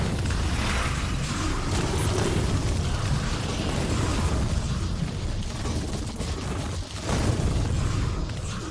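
Cannon fire and explosions from a Factorio megabase battle form a continuous, loud barrage of booms and mechanical rattling that runs throughout, with no one speaking.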